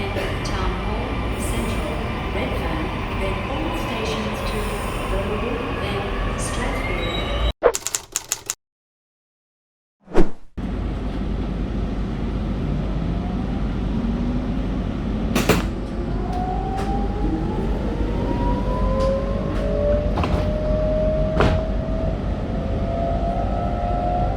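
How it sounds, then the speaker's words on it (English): A Sydney Trains Millennium commuter train pulls into a station with rumble and squealing brakes, rising electric motor whine, a brief cutout, and sharp clunks near the platform. "this spaceship-looking train rocks up"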